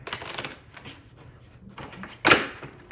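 A brand-new tarot deck being shuffled by hand, with soft riffling and shuffling through the first half and a single sharp, louder snap of cards near the end, close and quiet with no talking.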